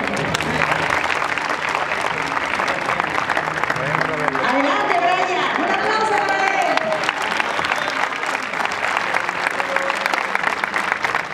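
An audience in a hall applauding loudly and steadily for the whole stretch, with a presenter's voice and crowd chatter carrying over the clapping.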